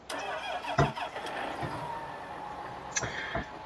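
A tractor with a tanker hitched behind starts up in a farming simulation game: a cranking catch, then a steady mid-pitched engine idle with a brief rev.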